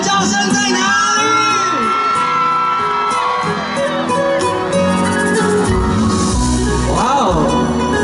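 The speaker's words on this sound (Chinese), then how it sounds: "全场的尖叫声在哪里？" A packed audience at an outdoor concert during a Mazu birthday blessing gala at Qishan Stadium screams and cheers in a loud, sustained roar full of whoops and yells, with voices shouting over the din.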